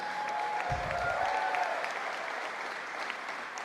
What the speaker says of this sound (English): Let's give Ozzy a big round of applause.